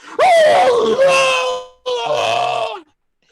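A voice imitates a horrible, inhuman scream from a burning stick, delivered as two loud, wavering wails, the first longer and bending in pitch, the second shorter, close and alone.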